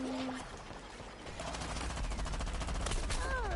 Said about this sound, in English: Oh, definitely getting shot at.